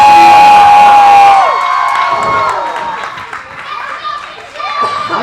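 A wrestling crowd at a CWF event cheers and shouts loudly. The noise swells early, then settles into a busier, more scattered roar with voices poking through and a renewed burst near the end.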